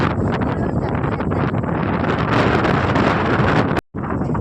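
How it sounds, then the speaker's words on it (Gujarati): Strong wind roars steadily into the microphone in an open farm field, a continuous buffeting rush that cuts out briefly near the end. "પવન એટલો બધો આવે"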